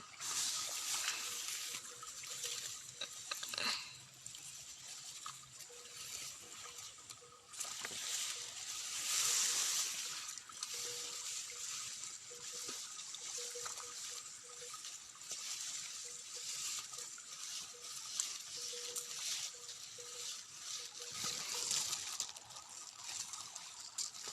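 Gentle rain falls over green rice fields in the countryside, a soft, steady hiss lasting throughout with no voices.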